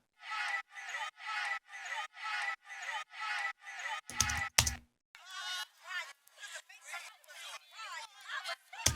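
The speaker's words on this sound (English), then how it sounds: "I've got this crowd effect." A crowd effect in a music production plays as rhythmic, chopped bursts of crowd chatter and cheering, gated into even pulses, with a short heavy thump near the middle before the choppy crowd texture comes back.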